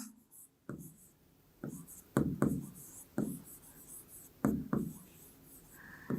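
Pen or marker strokes on a board while a maths solution is worked out, a run of separate scratchy strokes and taps with short pauses between them, close and fairly quiet, with no talk.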